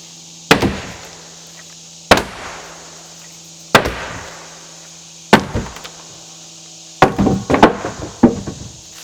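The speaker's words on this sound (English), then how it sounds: "I'm finally gonna get to use a hammer" Hammer blows land on boards while siding goes onto a chicken coop: single sharp, loud strikes about every second and a half, then a quicker burst of several hits near the end, each with a short ringing decay.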